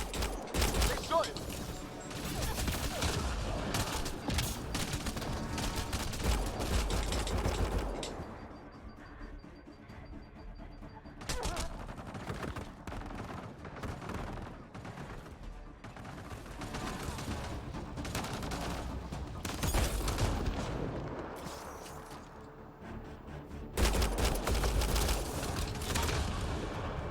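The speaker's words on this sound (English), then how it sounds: "They shot him!" Gunfire in the Mass Effect: Andromeda video game, heavy bursts of automatic shots and impacts in dense stretches broken by a quieter lull, loud and close, with voices speaking over the fighting.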